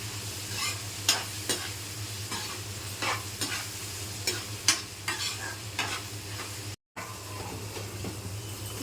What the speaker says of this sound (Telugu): పసుపు వేసుకొని ఇవి ఉల్లిపాయలు గోల్డెన్ బ్రౌన్ కలర్ వచ్చేదాకా వేయించుకోవాలి.